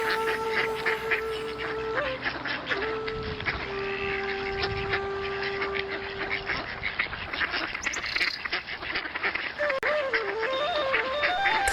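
Cartoon ducks in a Bengali folktale village scene, quacking in a lively continuous chorus over bright tonal background music, fairly close and steady throughout.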